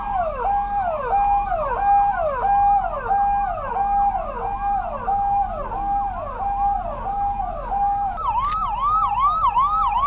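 Two newly dispatched ambulances depart with their sirens wailing in a steady, repeating rise-and-fall pattern, loud and close throughout, with a second, higher siren tone joining near the end.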